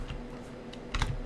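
Keys on a computer keyboard click in a few quick, close taps over a low background hum as values for a logarithm calculation are entered.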